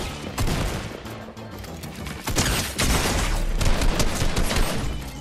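Pump shotgun fire in Fortnite: loud, close blasts come in several bursts amid busy gameplay noise, with heavy impacts near the middle and a dense stretch of shots toward the end.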